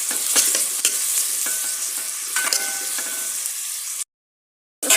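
Carrots and onions stirred in a pot for vegetable vermicelli soup, a bright sizzle with repeated scraping and clinking strokes, then a sudden silence of under a second before the sizzle resumes.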